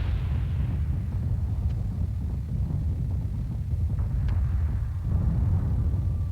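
Warship cannons from a BSG Deadlock space battle fire on a target, heard as a dense, steady rumble of low booms and repeated blasts with faint sharp ticks on top, no voices present.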